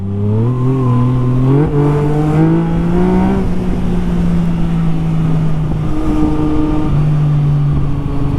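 A motorcycle with an aftermarket exhaust drones close by with a loud, rumbling exhaust, its pitch rising and falling as it revs and shifts.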